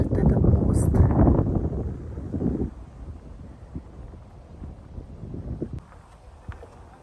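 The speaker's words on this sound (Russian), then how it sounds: "Дует ветерок, довольно-таки прохладный." A cool breeze by a bridge buffets the microphone in strong low rumbling gusts at first, easing into fainter wind noise while a person talks throughout.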